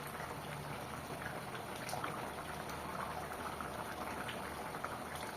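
A pot of meat curry simmers on the stove with a soft, steady bubbling and sputtering that continues evenly throughout, faint and close.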